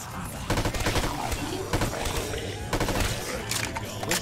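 MP44 assault rifle firing in Black Ops 3 at night, loud sustained automatic bursts separated by brief pauses, with a voice talking faintly under the shots.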